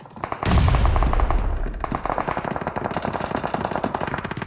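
Rapid automatic gunfire in a video game: a loud, sharp burst opens the clip, followed by a steady stream of fast, evenly spaced shots continuing to the end.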